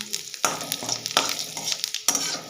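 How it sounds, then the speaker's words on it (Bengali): Crushed garlic, dried red chilli and panch phoron fry in oil, a bright crackling sizzle with several sharp spatula scrapes and stirs, close and loud, without speech. "রসুনটা একটু লাল লাল করে ভেজে নেব"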